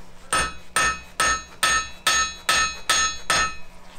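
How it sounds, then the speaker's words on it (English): A blacksmith hammers hot iron to flatten its end in a mill museum forge, eight sharp, evenly spaced ringing blows close up, each decaying quickly, with no talk. "First thing I do is flatten out an end."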